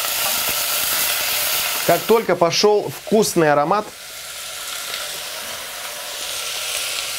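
Vegetables frying together in one pot for a cheese soup give a steady close sizzle throughout, with a person speaking briefly over it partway through.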